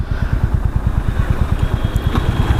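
A Royal Enfield Classic 350 Reborn single-cylinder motorcycle pulls away under acceleration in traffic, its steady thumping exhaust pulses loud and close throughout, with no talking.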